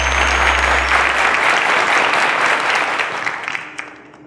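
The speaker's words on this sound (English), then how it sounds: "A round of applause to Benjamin and Margaret." A studio audience claps steadily for two quiz contestants on a televised school quiz show, a loud, dense applause that holds for about three seconds and then tapers off into scattered claps.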